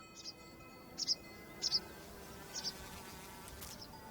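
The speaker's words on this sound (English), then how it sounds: "Here I can hear the insects going around me" Faint insect buzzing drifts through a quiet mountain outdoor space, with a few brief high chirping bursts in pairs standing out over the soft background hum.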